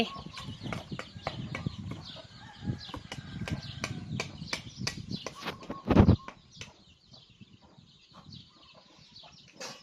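Chickens cluck and scratch nearby in a busy stream of short sounds, with a louder burst of flapping or squawking midway.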